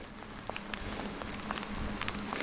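Rain falls during a bikepacking ride in foggy summer weather in Wales, a steady patter of scattered drops striking nearby surfaces over a constant hiss, with no talking.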